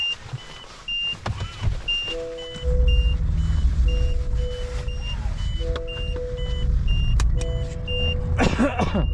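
Inside a car, likely a Honda Vezel, repeated electronic beeps from a navigation unit or dashcam sound in short bursts over engine rumble and cabin noise, with a clatter near the end.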